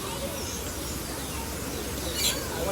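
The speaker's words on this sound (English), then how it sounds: "I wonder how they keep these birds to stay here." Birds chirp and call in an outdoor spot at Disney World, small tweets scattered through a steady background hum, with a brief louder chirp near the end.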